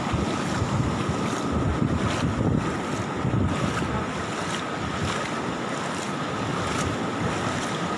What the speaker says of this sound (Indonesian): bambu-bambu yang hanyut terbawa oleh deburan ombak yang ada di tepi pantai